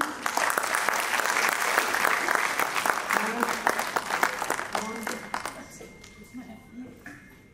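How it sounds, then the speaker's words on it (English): Hospital staff and guests at an Independence Day celebration at a medical college applaud the quality team, a lively burst of many hands clapping that thins and fades toward the end, with some voices underneath. "So a big applause for the quality team."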